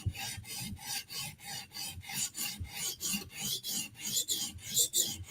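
A knife edge is profiled on a sharpening stone with repeated close, gritty rasping strokes in a steady back-and-forth rhythm throughout.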